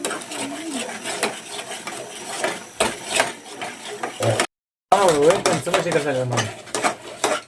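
Masala roasting in oil in a pan is stirred steadily, with a spoon scraping and clinking against the metal over a soft sizzle and a short break, while a person talks through most of it.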